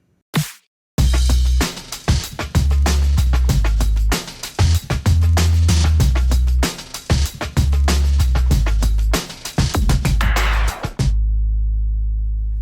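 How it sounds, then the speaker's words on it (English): Drums-and-bass submix of a library music cue: a punchy beat with heavy, booming bass notes plays continuously for about ten seconds and then stops abruptly. "One submix the libraries always want is a drums and bass mix"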